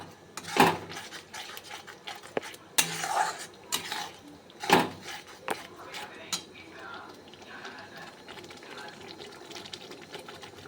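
Spice masala sautéed and stirred in a pan for chicken rezala, with repeated loud metallic scraping and clanking of a spoon against the pan, then a quieter sizzle, while a person talks.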